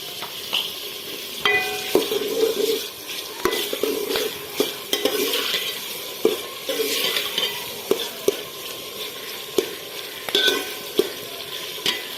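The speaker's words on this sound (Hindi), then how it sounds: "थोड़ी देर के लिए प्याज को मैंने भून लिया है।" Onion and finely chopped tomato fry in a pan for aloo anda, a loud continuous sizzle with frequent spoon scrapes and metallic clinks against the pan.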